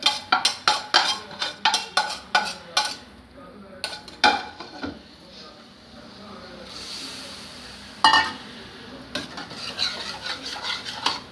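Tempering poured into tamarind broth for adai dosa in a home kitchen, with clinks of a metal spoon against the pot and brisk stirring, plus a soft sizzle in the middle, all close and without talk.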